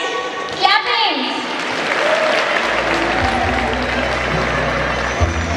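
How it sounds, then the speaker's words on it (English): An audience at a prize-giving during a success talk breaks into loud, sustained applause that fills the room, with a voice speaking over the start and crowd murmur underneath. "Please, guys, clap hands"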